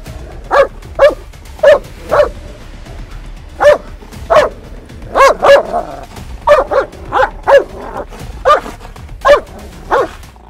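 A dog barks repeatedly in sharp, evenly spaced bursts, close and loud, with brief gaps between barks and no other sounds over a quiet background.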